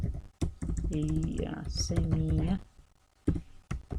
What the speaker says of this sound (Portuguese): E agora então eu vou digitar daí Iraceminha